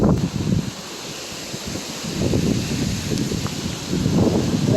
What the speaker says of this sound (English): now the wind and all is really picking up